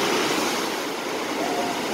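Large ocean waves off the islands of the Seychelles, near Praslin, heard as a steady, close rushing wash of surf with no clear break or pause over the short span.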